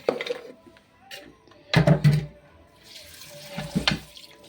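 Muddy produce being washed under a running kitchen tap: bursts of splashing water into a sink, loudest in two stretches, with softer trickling between.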